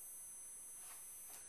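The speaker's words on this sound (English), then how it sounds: "how the hell am I supposed to sleep with this beeping noise going on?" A Nixon Super Hero II stainless steel watch beeps in a quiet resort room in Honduras. A faint, thin, high-pitched electronic tone is followed by two short beeps close together, with nothing else audible.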